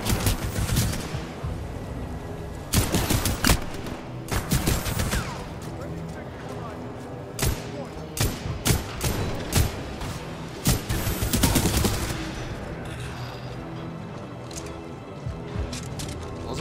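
Rapid gunfire from a weapon whose fire rate ramps up over time, in the video game Titanfall 2, rattling in repeated loud bursts over game sound and a speaking voice.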